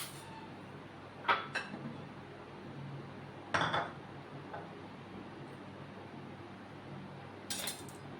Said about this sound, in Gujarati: સૌપ્રથમ આપણે બટેકાનું કટિંગ કરીશું